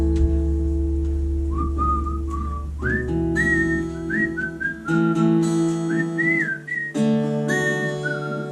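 A person whistles a melody inside a song, clear and loud, the bright tune gliding between notes over steady guitar and band backing.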